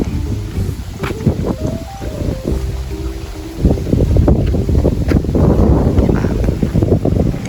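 Steady wind near the sea buffets the microphone in low rumbling gusts that grow stronger halfway through, with a faint whistling tone early on.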